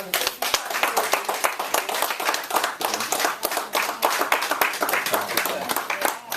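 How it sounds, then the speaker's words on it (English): A church audience gives a dense, sustained round of applause, with many hands clapping quickly and evenly throughout at close range and a faint voice now and then under the claps. "Can we give him a round of applause?"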